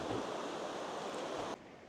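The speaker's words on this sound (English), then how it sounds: "And that's where the water from the infinity pool spills over." Water spilling over the edge of an infinity pool at the back of the Viking Mars cruise ship, a steady, even rush like surf that cuts off abruptly near the end.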